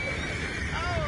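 A horse in Red Dead Redemption 2 neighs with a thin whinny over steady game ambience and faint background chatter, lasting about a second.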